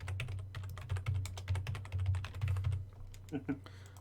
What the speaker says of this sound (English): I'm just going to do contradictory for the sake of typing.